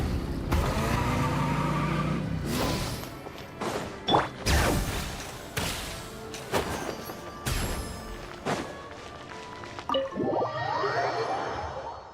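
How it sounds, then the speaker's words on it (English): Engines rev in the video game Genshin Impact, with a roaring, shifting motor drone broken by sharp impacts and whooshes and a rising whine near the end. "Rev the engines!"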